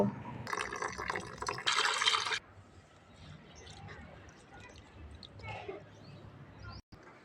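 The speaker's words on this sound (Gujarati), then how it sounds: "પહેલાં આપણે ખીચડીને ધોવા જવી પડશે તો ધોઈએ" Khichdi rice and lentils being washed in water, with sloshing and pouring bursts followed by quieter dripping and splashing, close and fairly soft.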